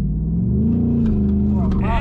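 A Ford Mustang Mach 1 launching hard on a race track with a Supercars driver, its engine note loud and close and climbing steadily in pitch, with faint talk in the cabin.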